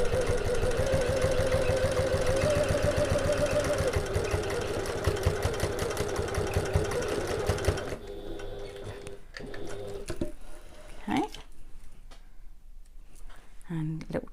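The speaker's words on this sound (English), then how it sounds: "I'm definitely going to be back stitching at the start and the end of each" A sewing machine back stitching along the sides of a fabric bag, with a close, rapid, rhythmic motor whir running steadily before it stops, followed by quieter handling and rustling.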